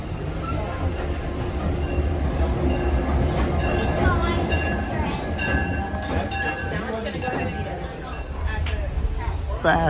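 An excursion train on the Delaware River Railroad near Phillipsburg, New Jersey, rumbles steadily from inside a carriage, with rhythmic wheel clatter and occasional squeals, while people talk nearby.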